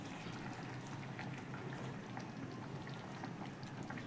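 Rohu fish curry boils under a lid on a high flame, giving a steady, soft bubbling hiss that runs evenly throughout, with no voices.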